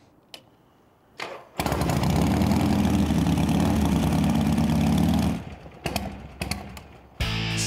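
A Harley-Davidson Softail motorcycle engine cranks and catches, then settles into a loud, close, throbbing idle for several seconds before cutting off, with a few clunks around the start and stop.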